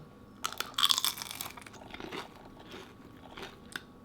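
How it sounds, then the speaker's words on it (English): Overcooked, crunchy breakfast bacon is bitten and chewed up close, with a few sharp crisp crunches followed by softer, scattered chewing. "Bacon, crunchy."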